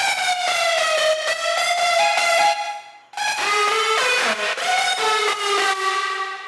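Heavily compressed trap lead synth from Ableton's Analog plays a loud, dense, bright melodic line with sliding pitches, dropping out briefly halfway before returning at full level, with no voices present.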